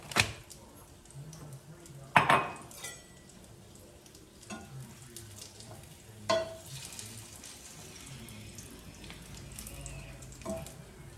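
Tofu and a vegan patty fry together in a pan with a low, quiet sizzle, broken by a few sharper clinks and scrapes of a utensil against the pan.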